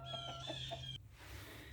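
Chickens cluck inside a large coop, a few short clucks over steady low background noise, softening after a brief change partway through.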